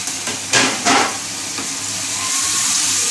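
Chopped cabbage added to a hot pan for chicken Manchurian, a steady close sizzle with a couple of sharp stirring scrapes and clanks early on.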